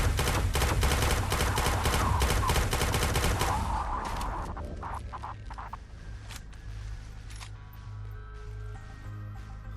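Rapid automatic gunfire from a weapon in the VR shooter Quantum Threshold rattles out in a dense, loud burst for about four seconds, then gives way to scattered softer shots and ambient game noise.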